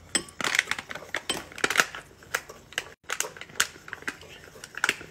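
Truffle mac and cheese stirred in a pan, a spoon scraping and clacking against the metal in quick irregular strokes, close and fairly loud.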